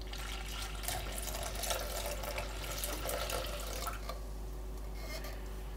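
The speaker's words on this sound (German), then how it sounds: "jetzt gebe ich die restliche Milch dazu" Leftover milk poured into a stirred dough mixture, a steady close liquid trickle and splash that thins out toward the end, with no voices.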